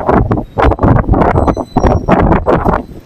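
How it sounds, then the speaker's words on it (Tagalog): Strong wind buffets the microphone in heavy rumbling gusts, with brief lulls between the roaring bursts. "Lakas ng hangin, no?"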